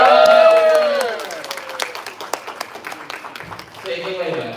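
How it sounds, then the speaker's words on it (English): Audience at a Transformers fan convention panel room claps and cheers, starting loud and dense then thinning into scattered claps, with voices and a brief tonal sound over the start. "Big round of applause."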